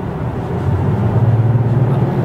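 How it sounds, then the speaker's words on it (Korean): Low synthesized engine hum from the active sound design system in a 2023 Hyundai Grandeur (Azera) 3.5 gasoline AWD, a steady droning tone swelling slightly and holding under the cabin without any talk. "앞쪽에서 우웅 하는 소리가 들리죠."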